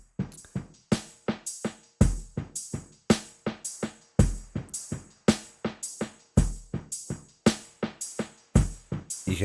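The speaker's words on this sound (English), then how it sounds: "You can hear that tape noise in the background there" Delay plugin processing repeated sharp percussive hits with tape noise and saturation, each hit trailed by decaying echoes in a steady, loud, fairly fast rhythm, with a hiss bed underneath.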